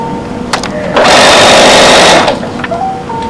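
A sewing machine runs in one steady loud burst of about a second and a half as it stitches fabric binding around the edge of a handmade cloth slipper, with brief mechanical clicks before and after.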